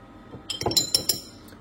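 A teaspoon clinks against a cup while papaya seed powder is added for a garlic and lemon soup: a soft scrape, then three or four bright, ringing taps close up, with nobody talking.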